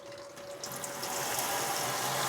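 Cold water pours steadily from a tap, a hissing rush that swells in the first second and then stays constant and close.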